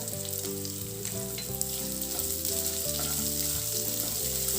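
Cloves sizzle in hot oil for an instant lemon pickle, a steady crackling fry running the whole time beneath prominent background music.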